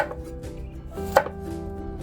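A knife chops a bottle gourd on a cutting board, a few irregular knocks with one sharper thud, close and clear with no talking.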